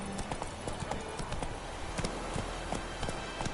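Hooves of Roach, the horse in The Witcher 3 video game, clop in a quick galloping rhythm, moderately close and fairly quiet, with no voices.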